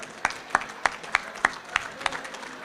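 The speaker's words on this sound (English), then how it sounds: "So give yourselves a round of applause." Clapping at a union local's annual bull roast gathering, a handful of distinct, evenly spaced claps in a steady rhythm, fairly faint over a quiet background murmur.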